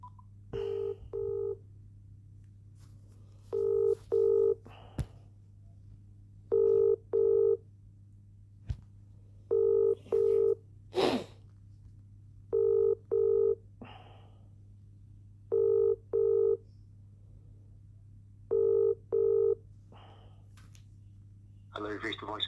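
A phone call being placed to a lawyer's line: paired bursts of touch-tone dialing tones repeat eight times in a steady rhythm over a constant low hum, with a brief breathy noise partway through.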